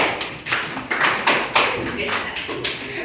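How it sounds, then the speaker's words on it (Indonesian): Students in a classroom clap for a group that has just presented, a brisk run of fairly quick, close claps in uneven bursts, moderately loud, with no talking. "Tepuk tangan untuk kelompok 2."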